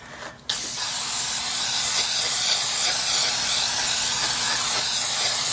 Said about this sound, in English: I'm going to use a Blair Very Low Odor Spray Fix for this.